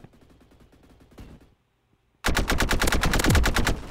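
In the Roblox shooter Energy Assault, a loud rapid burst of automatic gunfire rattles right up close after a brief pause, with quieter game sounds before it.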